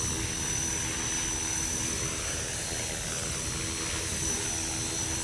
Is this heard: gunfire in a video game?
no